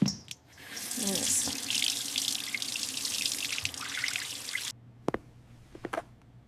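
Tomatoes washed under a running kitchen tap, water rushing steadily into the sink for several seconds before shutting off, followed by a few drips and clunks, close by.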